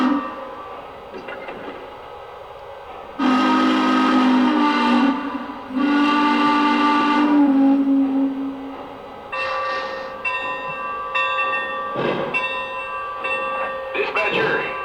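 Whistle of a Lionel model coal-burning steam locomotive, blowing two long sustained blasts followed by a series of shorter toots, clear and close, over an ongoing mechanical hum of the running model train.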